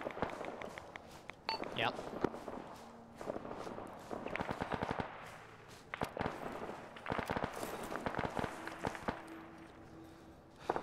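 Bursts of Arma 3 gunfire in a ground PvP firefight, with rapid automatic volleys and scattered single shots at mixed distances while players talk over voice chat.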